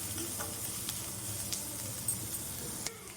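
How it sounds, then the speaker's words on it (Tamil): Onions sauté in a pan for butter chicken, with a continuous close hiss and sizzle and a few faint clicks of a spoon stirring, heard alone. "இப்போ வெங்காயம் பார்த்தீங்கன்னா வந்து நல்லா வதங்கட்டும்."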